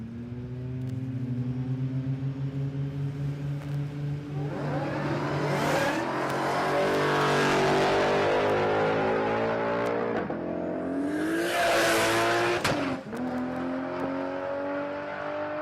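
A Ford Mustang makes a drag racing run down the strip at Palmyra Raceway. The loud engine revs and climbs through gear changes, with a sharp rising surge midway and another near the end, heard with no talk over it.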